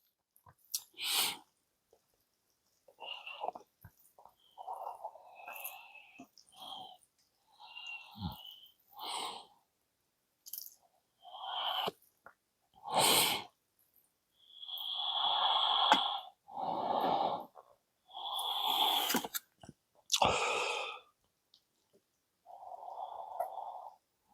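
Someone eating Shin Ramyun Gold instant noodles with a curry aroma, mixed with pickled radish and jalapeño, makes repeated close, wet chewing and slurping bursts in irregular clusters, with breaths between them and no talk.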